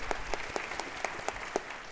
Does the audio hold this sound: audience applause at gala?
yes